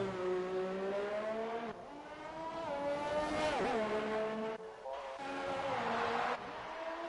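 A race car accelerating hard on a circuit during practice, its engine note climbing through the gears with sharp shifts, loud and close throughout.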